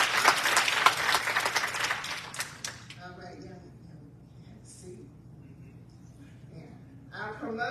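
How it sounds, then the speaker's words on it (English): A graduation audience applauds loudly for about three seconds. The clapping fades into a quieter room where a few voices murmur. "can we have a hand of applause for these two?"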